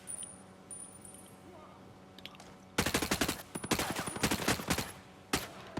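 Rapid bursts of rifle fire in the tactical shooter Ghost Recon Breakpoint crackle close and loud after a quiet, ambient opening, with several tightly spaced volleys and a final short burst.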